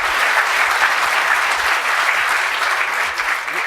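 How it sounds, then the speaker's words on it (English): Steady applause from a conference audience at a policy discussion, dense even clapping held at a constant level for a few seconds with no voices over it. "How about a round of applause for that?"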